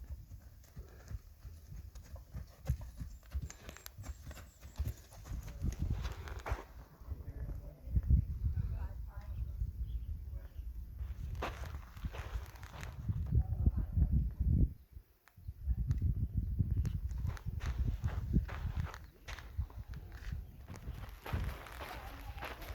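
Horse hooves clip-clop steadily on a hard surface near Mammoth, California, close by, with a brief pause midway and faint voices in the background.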